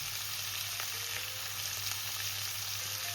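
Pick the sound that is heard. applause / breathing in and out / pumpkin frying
pumpkin frying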